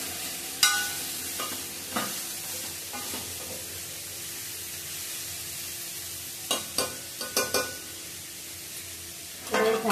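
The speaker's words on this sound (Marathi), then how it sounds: "थोडा वेळ तेलामध्ये परतून घेतली." Seasonal mixed vegetables for Bhogi bhaji being sautéed in oil in a pan over a low flame, a soft steady sizzle broken by scattered spatula scrapes and clinks against the pan, with no talking.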